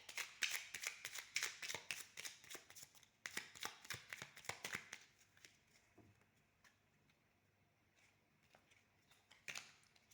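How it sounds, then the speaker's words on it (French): Tarot cards being shuffled by hand, close and soft, a quick run of crisp riffling flutters and taps in bursts, then slowing to a few sparse flicks as a card is drawn, with no talk. "on va tirer une autre carte"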